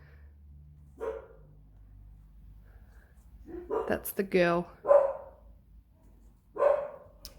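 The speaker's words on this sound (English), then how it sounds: "I don't know if you heard that, but my dog just barked" A dog barks sharply a few times close by, with someone speaking between and over the barks in a quiet room.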